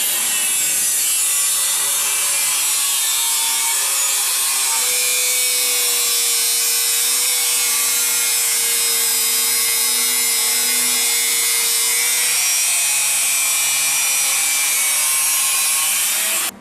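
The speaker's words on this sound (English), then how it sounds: "So, you see, the little grinder, it cut that much faster." Small grinder cutting through material on a construction job, a loud continuous whine holding steady for the whole stretch with a wavering pitch in the middle, stopping abruptly at the end.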